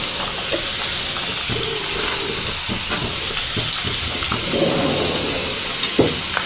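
Coriander-cumin powder and red chili hitting chickpeas simmering over low heat, a steady close sizzle and hiss with soft stirring clatter throughout, no talking.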